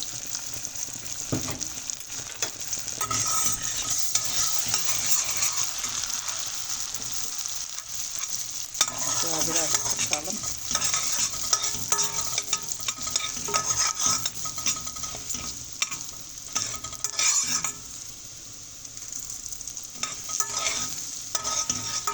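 Goose meat sizzles and fries in a little oil in a pan for bulgur pilaf, with continuous crackling and frequent scraping stirs of a utensil against the pan, close and steady throughout, with no talking.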